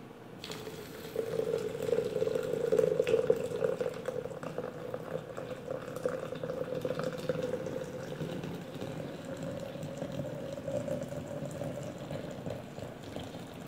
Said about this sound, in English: Now we pour in the water.